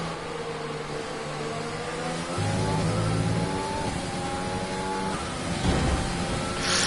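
Mercedes race car engine droning loudly in a sim racing league round at Belgium, pitch climbing through the gears with upshift steps and a rising whine, up close and steady with no talk.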